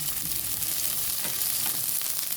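Crushed garlic cloves with skins on sautéing in a pan as a Filipino pork hock dish begins, a steady dense crackling sizzle with faint stirring scrapes, close and unbroken, no voices.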